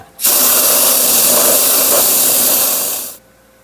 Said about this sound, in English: So I'm just going to have to spray in here and hope for the best of it.